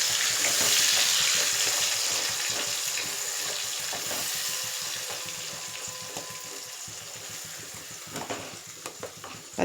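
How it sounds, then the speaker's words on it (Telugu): Onion paste fries in a pan with a close, continuous sizzle and repeated stirring scrapes that ease slightly in loudness as it cooks. "ఆనియన్ పేస్ట్ వేసేసుకుని ఇది పచ్చివాసన పోయేదాకా మనం దీన్ని ఫ్రై చేసుకోవాలి."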